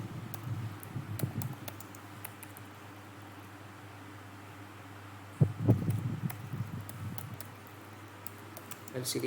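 Typing on a computer keyboard while coding, with scattered clicks and rattling bursts, a denser flurry midway, close against a steady fan hum.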